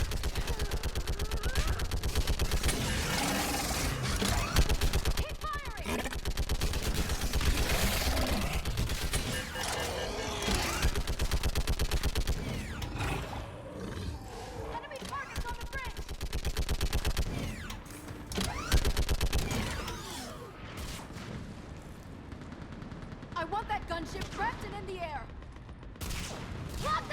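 Sustained automatic gunfire rattles through a battle in the video game Mass Effect 3, a dense, loud barrage of overlapping shots with occasional shouted voices beneath the clatter.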